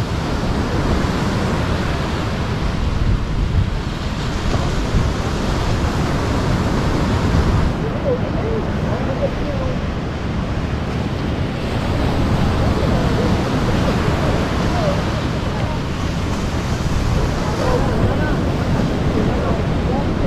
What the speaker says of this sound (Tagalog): Lalaki ng alon oh.